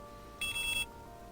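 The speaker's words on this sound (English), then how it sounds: "The beeps are going off because all my weapons are metallic." A single steady electronic beep from a video game metal detector sounds for about half a second, clear and high-pitched against a faint background hum.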